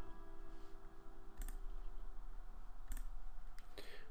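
A computer mouse clicked during a software install, giving a few sharp, quiet clicks, including a quick double click, over a low steady hum, with no speech.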